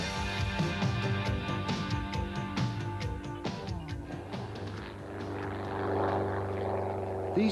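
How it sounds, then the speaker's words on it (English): Propeller planes flying, turning and diving: a steady droning engine roar at moderate distance that shifts slightly in pitch as the aircraft maneuver, with no talking over it. "These planes appear to be defying the force of gravity"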